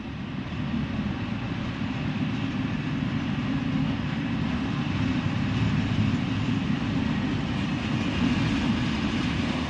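An SNCF train hauled by a 22200 electric locomotive with two wagons passes close by, a loud, steady rumbling roar that holds without a break for about ten seconds, with no voices.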